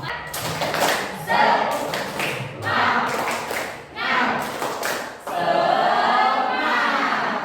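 Students standing in a classroom do a rhythmic spirit clap, with repeated bursts of hand claps and thumps broken by short pauses, loud and close, with children's voices mixed in.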